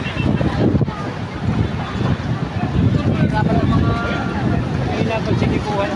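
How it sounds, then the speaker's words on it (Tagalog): Strong wind roars steadily across the microphone outdoors at a fire in Barangay 105, Aroma, Tondo, Manila, a loud continuous rush with gusts and indistinct voices underneath. "Sobrang lakas ng hangin."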